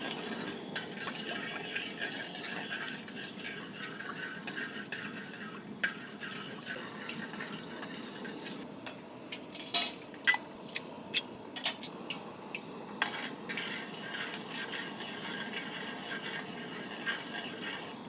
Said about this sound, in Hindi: राई छिटकने लगी है